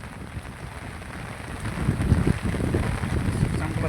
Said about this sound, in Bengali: আর আজকে বৃষ্টি সেই হচ্ছে আজকে